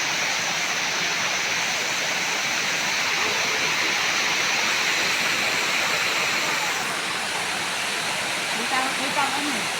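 A waterfall at Vinahian in Lopez, Quezon roars as a loud, steady rush of falling water, with faint voices near the end.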